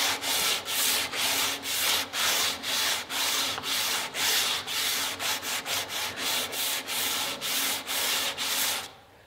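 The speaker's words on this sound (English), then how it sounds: "I'll hit the corners with some sandpaper just to take that edge off and make it nice and smooth" Sandpaper rubbing the corners of a wooden reflex-deflex bow limb in steady, rhythmic back-and-forth strokes, loud and close, about sixteen passes with no talking, ending abruptly.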